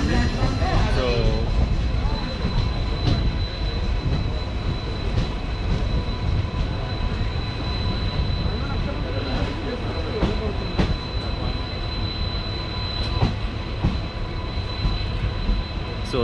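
Kacheguda-Narkher InterCity Express rolling along on rails, a steady loud rumble of wheels and carriages with rhythmic clatter and occasional sharp knocks throughout.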